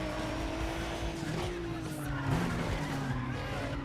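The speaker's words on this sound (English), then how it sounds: "Oh, this car sounds so good!" A race car engine in the video game Need for Speed: ProStreet, modded, drones steadily with shifting pitch as tires skid and squeal, continuous and loud with faint talk underneath.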